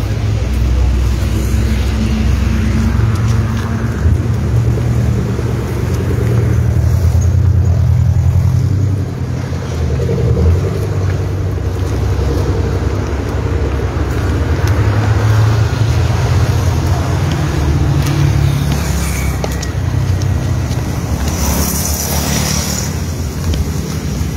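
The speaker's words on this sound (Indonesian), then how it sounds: "Mobil lewat sudah ada." A car travels a hill road near a roadside grave site, its engine a loud, close low rumble that swells and eases across the stretch, with wind-like broadband noise on top.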